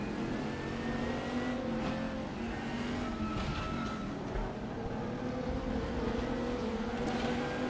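A BMW race car engine in RaceRoom Racing Experience at Bilster Berg, droning steadily at close range with rising and falling revs as it accelerates and shifts, the engine note continuous and dominant throughout.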